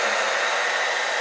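A hair dryer on its cool setting blows a continuous, loud, close airy whoosh, drying hair that has been glued down for a sew-in weave.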